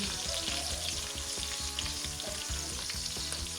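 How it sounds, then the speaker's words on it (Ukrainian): Chunks of meat for a stew fry steadily in a hot pan, a dense continuous sizzle with crackling pops and a regular pulsing layer beneath, close and fairly loud, with no talking. "наше м'ясо вже підсмажилося, коли воно взялося ось такою чудовою скориночкою"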